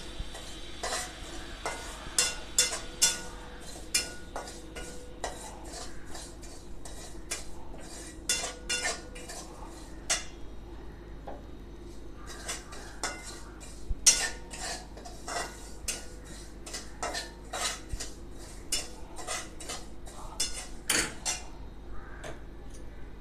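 Caraway seeds and poppy seeds dry-roasting in a pan, with a spoon scraping and clinking against the metal in irregular close taps and scrapes and a faint rustle of seeds throughout, no speech.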